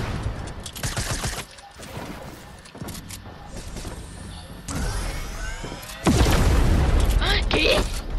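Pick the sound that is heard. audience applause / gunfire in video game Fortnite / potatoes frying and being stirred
gunfire in video game Fortnite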